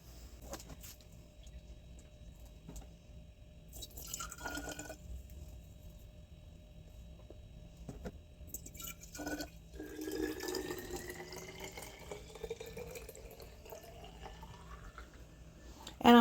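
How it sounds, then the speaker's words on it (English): Water kefir is poured into a bottle in several bursts, the gurgle rising in pitch as it fills, with quiet pauses between pours. "I'll be adding about a quarter cup of juice to each bottle and then filling it"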